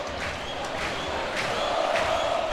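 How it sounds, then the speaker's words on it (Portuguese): Criciúma supporters sing loudly in the stands at a Catarinense championship semifinal football match, a dense, steady crowd chant heard at a distance with faint rhythmic accents throughout. "Torcida do Criciúma canta alto no Heriberto Wilson."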